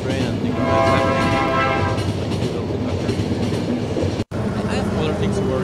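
A train runs in the video game The Final Station, giving a steady rumbling rail drone with tonal horn-like whistling early on, loud and continuous, with a brief dropout near the end.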